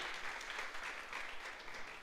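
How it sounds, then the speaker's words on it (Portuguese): Church congregation during a faith and miracles worship service claps together in a steady, distant wash of applause, quiet and reverberant throughout. "Pode dar uma salva de palmas ao Senhor?"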